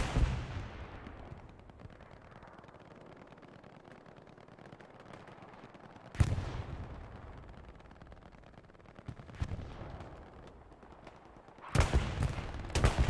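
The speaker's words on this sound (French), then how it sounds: "on a même les canons AT là qui sont en train de se marteler" Anti-tank guns in a video game: heavy blasts boom at intervals with long decaying echoes, a few sharp shots clustered near the end, over a low battlefield rumble.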